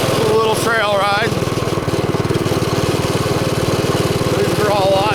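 A small mini bike engine running steadily close by with a fast, even, buzzing putter, while someone talks over it.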